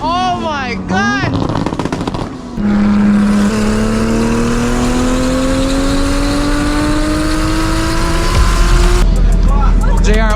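A Dodge Charger SRT Hellcat engine revs hard and climbs steadily through a long high-rpm pull during a drive-and-drift run, loud and close, with brief sharp revs and chatter at the start and a final burst at the end.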